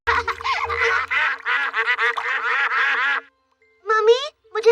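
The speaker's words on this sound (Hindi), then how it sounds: "देखो वहाँ तालाब में बत्तख है।" Cartoon ducks on a pond give a run of rapid, bright quacks in quick bursts, close and loud, pausing briefly before a few more quacks.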